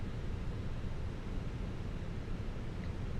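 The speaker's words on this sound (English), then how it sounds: "that's the sound of the APU ready to go." An Airbus A319 auxiliary power unit runs in a flight simulator, giving off a steady, dense rumble and hiss with no pauses, fairly quiet and alone.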